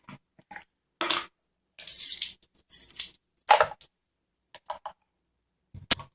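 Small metal measuring teaspoons clink and tap against each other and a container while cinnamon is scooped at a kitchen counter, a handful of brief, close, separate clicks and scrapes with silence between.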